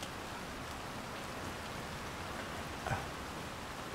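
Steady rain falls in the stealth video game Hitman 3, an even, close hiss of drops on surfaces with no voices over it and a small thump near the end.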